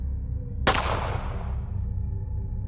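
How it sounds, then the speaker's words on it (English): A single sharp gunshot cracks out once and decays into a long fading reverberant tail, as if echoing through woods, over a low background rumble. "the sound of a gunshot spread throughout."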